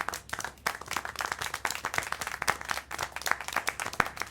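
Steady, brisk hand clapping from a small group in the video game Syberia: The World Before, close and continuous for several seconds with no talk.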